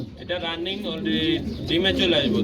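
Sirazi and Bangla pigeons coo in soft, throaty bursts close by at a pigeon farm, overlapping with a person talking.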